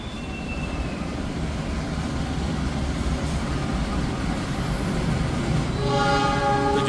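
The KA Jayabaya stainless passenger train pulls out of Bekasi station with a steady low rumble of wheels and carriages, and a brief tonal sound near the end.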